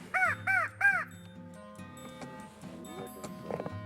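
Crows caw three times in quick succession, loud and nearby, followed by quieter outdoor background sounds and faint distant calls.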